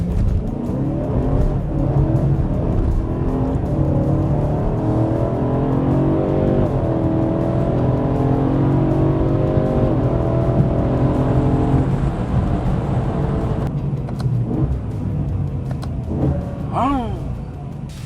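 A BMW E92 M3 naturally aspirated V8 engine rumbles and revs in rising, stepped pulls, loud and continuous, with a brief higher whine near the end.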